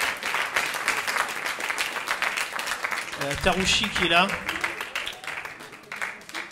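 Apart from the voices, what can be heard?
audience applauding film participants on stage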